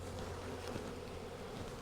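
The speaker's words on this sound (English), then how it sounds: "we're going to have a big old swarm of bees sitting here on the ground" Dense, steady buzzing of a honeybee swarm on the ground, a continuous low hum of many wings close around, with no talking.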